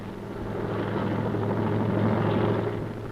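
A military transport helicopter flies during a 1971 India-Pakistan War airlift across the Surma river toward Sylhet, a continuous low rotor thrum and engine drone that swells slightly and holds steady, heard at moderate distance with no voices.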